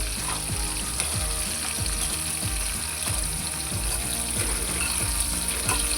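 Dambha vegetable curry with salt cooks in oil, giving a steady, close sizzle and bubbling with small popping crackles throughout.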